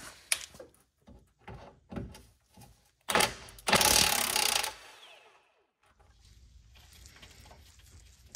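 A ratchet works a 15 mm bolt loose under a Town & Country / Grand Caravan minivan: several short clicking bursts, then a louder extended run of rapid ratcheting, close up, followed by quieter rustling.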